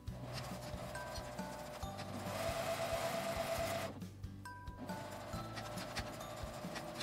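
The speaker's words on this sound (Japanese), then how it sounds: "紐を折り上げて上端も1周縫います。" Sewing machine running steadily as it stitches a fold-over hem around the top edge of a cotton cut-cloth eco bag, a continuous close mechanical whir with a brief pause near the end before resuming.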